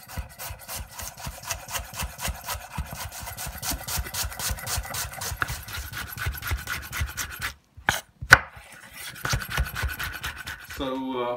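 Whole spices being ground by hand for a chicken bhuna, a steady rhythmic rasping and rubbing that runs close and fairly loud, breaks off briefly with a couple of sharp knocks, then resumes.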